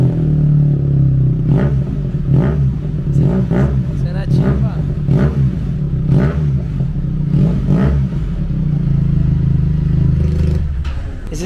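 A Benelli TRK touring motorcycle with an aftermarket exhaust idles with a deep rumble and is blipped in repeated short revs, loud and close, while people talk over it.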